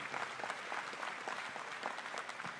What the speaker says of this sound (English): Would you go ahead and clap for our mob box team?